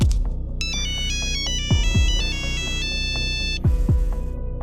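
A cartoon phone rings on and on with nobody answering, a repeating electronic melodic ringtone up close, with soft swooping tones beneath it.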